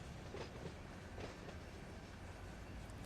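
A train in Run 8 Train Simulator rolls along the track past a frog, giving a continuous, steady rumble with faint rail clatter throughout.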